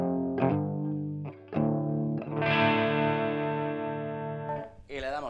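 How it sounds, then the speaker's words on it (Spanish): Electric guitar played through a Thermion Engineering Gasoline distortion pedal with a clean-to-crunchy setting. Several sustained, buzzing chords ring out with short breaks between them, and a brief voice comes in at the end. "aquí tenemos el gasoline de Thermion Engineering, sonido limpio o crunchy"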